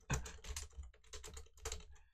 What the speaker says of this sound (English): professional streamers typing on stream